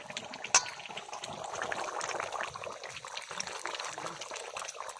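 A village-style curry of free-range rooster with papaya and stone-ground spices bubbles and gurgles softly in a pot as it boils over. A quiet, steady simmer with one brief clink near the start.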